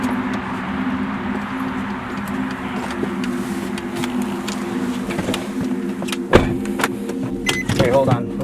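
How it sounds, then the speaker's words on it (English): A car's electric window motor hums steadily near the microphone as the window is lowered, with street ambience around and voices talking over it. "I'm gonna roll this window down"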